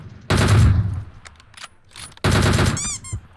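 Rapid automatic gunfire from the mobile shooter PUBG Mobile, two loud sustained bursts separated by scattered single shots and brief clicks, with no talk over it.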